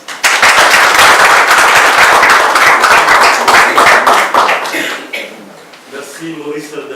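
Loud applause and clapping from a conference audience at a political meeting in France, dense and sustained for about five seconds before thinning out into scattered claps and murmurs.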